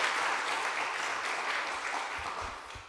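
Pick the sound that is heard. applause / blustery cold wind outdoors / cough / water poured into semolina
applause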